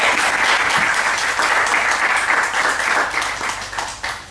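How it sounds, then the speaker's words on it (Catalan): Audience applause for a solo musician at a live dub concert, a dense, steady wash of clapping from a full crowd, loud and close, holding for several seconds. "un aplaudiment"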